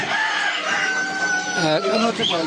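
Chickens at a poultry farm, a close, loud run of clucking and crowing calls with overlapping bird voices and a steady background din.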